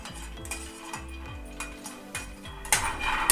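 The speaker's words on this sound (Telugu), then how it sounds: "తర్వాత పల్లీలు కూడా వేసుకొని డ్రై రోస్ట్ చేసుకోవాలి" Peanuts dry roasting in a pan, stirred with a metal utensil: repeated scraping and clinking strokes in a steady rhythm, close and fairly quiet, growing a little louder and busier toward the end, with no talking.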